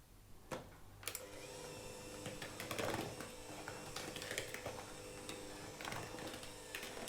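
An electric mixer runs on low speed through almond flour cookie dough, giving a steady mechanical whir with rattling, knocking texture that carries on unbroken, fairly close, with no voices.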